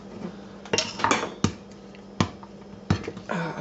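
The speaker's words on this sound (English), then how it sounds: "I'm not about to grate this cheese, so I'll just cut it into small pieces" A dull kitchen knife chops a block of cheese into small pieces, giving a series of sharp, close knocks on a cutting surface in an uneven rhythm with clinks between them.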